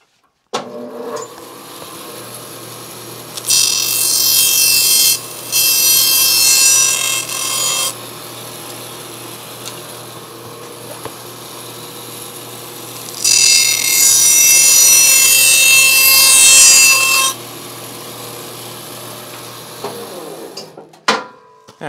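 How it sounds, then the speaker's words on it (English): A bandsaw trims a foam tail surface for a scratch-built RC plane, two loud steady cutting passes of several seconds each over a constant motor hum, close by. "let me go ahead and trim, since we're standing right here at the bandsaw, let me go ahead and trim this right here just a tiny bit."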